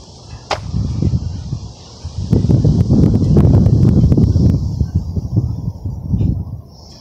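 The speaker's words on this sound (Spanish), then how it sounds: "Porque está bien ventoso esta tarde." Gusty afternoon wind sweeps across a lawn scattered with fallen petals, rising into a loud rushing buffet over the middle seconds, with light ticks and rustles, then easing toward the end.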